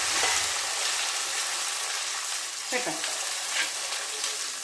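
Ginger and tomato sizzle steadily in a pan for a coconut-based fish curry, a continuous close frying hiss with a brief stirring scrape partway through.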